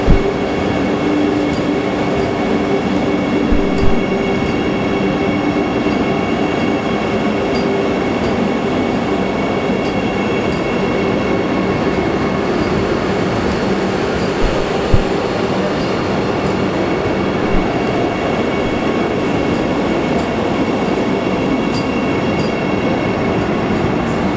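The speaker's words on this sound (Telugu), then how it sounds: "ఈ వందే భారత్ ట్రైన్ వచ్చేసి 130 వరకు కూడా రీచ్ అవుతుంది" A Vande Bharat high-speed electric express train rushes by with a loud, steady roar and rumble of wheels on track, occasional clicks, sustained throughout with no talking.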